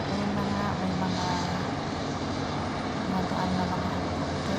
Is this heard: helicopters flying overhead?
yes